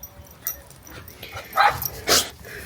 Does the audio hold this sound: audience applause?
no